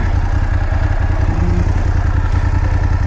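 A BMW F850GSA low-chassis adventure motorcycle rides at steady speed on a highway, its mid-pitched engine droning continuously and loudly with wind and road rumble, no talking.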